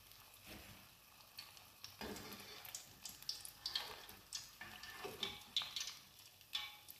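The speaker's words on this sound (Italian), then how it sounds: "E continuiamo allo stesso modo a friggere tutte le altre." Zucchini fritters fry in hot oil, a quiet steady sizzle with faint crackles and soft utensil clinks, heard alone at low level without talk.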